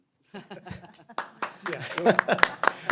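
Scattered hand claps break out from a few people at a University of Missouri Board of Curators meeting, uneven and close, mixed with light laughter and chatter.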